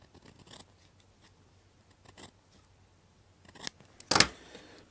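Scissors cutting a strip of model railway paving, a few soft, sparse snips followed by a sharper, louder cut near the end, close up with no talking.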